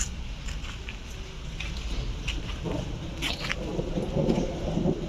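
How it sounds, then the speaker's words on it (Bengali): Deep, distant rolling thunder rumbling under steady rain, with a few faint clicks and scattered background sounds. "বুঝছো কীরকম মেঘ ডাকছে?"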